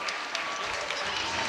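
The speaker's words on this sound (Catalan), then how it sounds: "Un aplaudiment per la Carlota" Applause at a school end-of-year extracurricular show at CEIP Sant Martí, a short dense burst of clapping from parents and children in a hall, with crowd noise mixed in.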